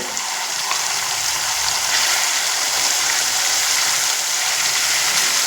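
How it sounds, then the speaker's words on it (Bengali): Spice paste fried in a hot pan of oil with turmeric, giving a steady, loud, broadband sizzle that holds evenly throughout with faint scraping. "এবার এখানে মিক্সিতে যে মশলা পেস্ট করে রেখেছিলাম সেই মশলার পেস্ট দিয়ে দেব"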